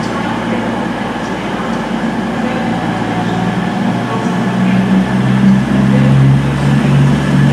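A Virgin Trains Class 221 pulls away from Chester, its engines rising to a loud, steady rumble and drone that builds toward the end.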